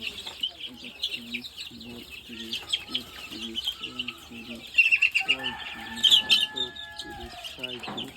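Hens cluck in rhythmic bursts while chicks peep shrilly and continuously, close by, as the young birds are carried over to a brooding house for fancy chickens.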